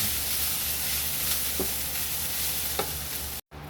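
Fried rice with oyster sauce stirred in a pan, giving a continuous hissing sizzle with a couple of soft scrapes, heard close and steady.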